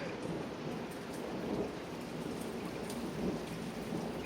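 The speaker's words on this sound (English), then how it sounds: "Oh, there's some thunder." Heavy rain pours steadily through a thunderstorm, with low rumbling thunder rolling beneath the dense hiss of drops; no one speaks.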